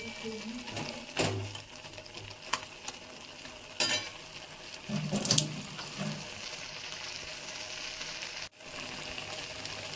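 Maggi instant noodles simmer in a pan as the water cooks off: a steady close-up bubbling sizzle, broken by a few louder scrapes and clinks from stirring.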